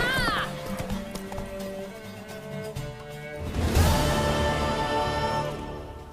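A horse in the video game The Witcher 3 gives rhythmic clip-clop hoof beats and a loud whinny, set against game music and background ambience.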